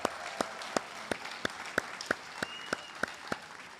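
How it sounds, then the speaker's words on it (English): At a university commencement ceremony, graduates clap for their families, a fairly quiet, steady beat of distinct claps, roughly three a second, over a faint murmur of wider applause. "graduates, please give your family a round of applause for their appreciation."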